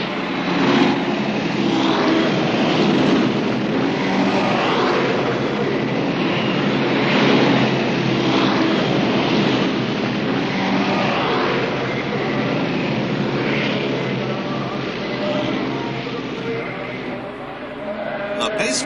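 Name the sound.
Indy 500 race cars brought up to starting speed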